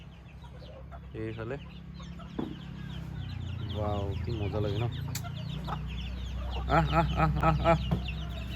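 Chickens clucking in a village yard in Assam, several birds making short, repeated clucks and squawks at close range while a person talks casually over them.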